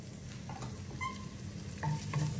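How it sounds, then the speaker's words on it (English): Shallots sizzle in a frying pan, a steady soft crackle of frying at low volume with a few faint stirring touches, no voices. "I'm just going to sizzle that for a while, just 2-3 minutes."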